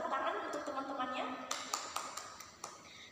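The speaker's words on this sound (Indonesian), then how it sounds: "Silakan tepuk tangan untuk teman-temannya" Brief scattered claps from a few students in a classroom, a handful of sharp hand taps following a stretch of talk, fairly close and light rather than a full round of applause.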